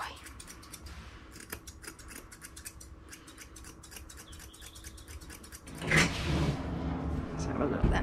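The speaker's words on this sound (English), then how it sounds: "Make sure you're scissoring all that out to leave a nice finish." Scissors trimming a Shih Tzu's beard, with quick repeated snips close by at an even pace, followed by a louder rustle and handling noise near the end.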